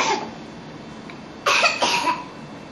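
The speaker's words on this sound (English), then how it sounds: "He's getting over a little bit of a cough." A young child with a lingering cough coughs in two short, close bursts about half a second apart, fairly near and loud against a quiet indoor background.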